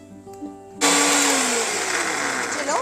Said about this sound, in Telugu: ఇప్పుడు దీన్ని మనం మిక్సీ పట్టుకోవాలి